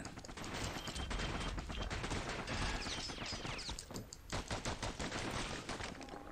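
Dual slinger pistols in the action game Bastion fire rapid bursts of shots, a dense stream of sharp cracks that continues with short pauses, mixed with game effects and fairly quiet.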